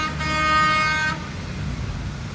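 A Wawa delivery truck sounds its horn in one loud, sustained blast lasting about a second, then cuts off, leaving a low rumble of traffic.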